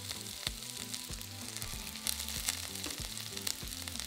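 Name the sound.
diced onion, garlic and ginger frying in a pan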